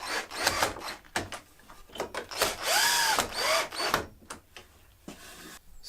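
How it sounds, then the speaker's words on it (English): A power drill whirs into wood in several short bursts, rising in pitch as it bites, with clicks and handling noise between runs, close up. "and we drill it in."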